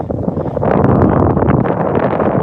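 Cold wind gusts across the microphone on a Tokyo street at dusk, a loud, blustery rush that swells after the first half second and keeps buffeting without letup, with no talking.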